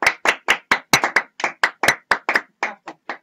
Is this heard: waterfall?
no